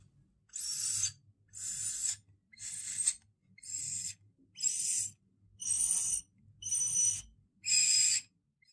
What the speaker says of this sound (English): Now you have your own little flute, and it should sound something like this.